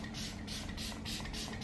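Repeated short bursts of makeup setting spray mist, about five quick hissing pumps in a steady rhythm, close and fairly loud.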